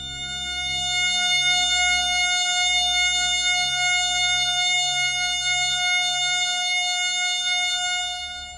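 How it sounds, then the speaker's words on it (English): Steady synthesized tones forming a sustained F sharp major chord, several pure pitches layered and ringing together over a low rumbling hum, continuous for several seconds. "another F sharp major chord that sounds like this"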